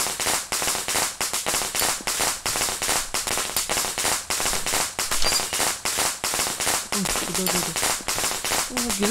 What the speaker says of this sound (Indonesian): Gila, nggak habis-habis merconnya.